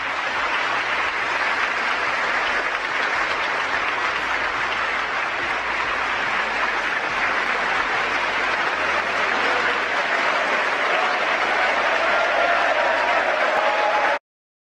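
A large audience claps and cheers while standing, a dense, steady wall of applause that holds at even loudness for the whole stretch before stopping abruptly.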